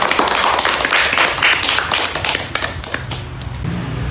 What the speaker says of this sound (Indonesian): kita beri tepuk tangan untuk pendapat